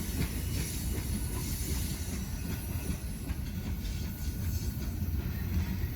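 A heavy freight train climbing a steep grade at Mount Orab rumbles steadily past at close range, with a constant low roar and faint rhythmic clatter of wheels throughout.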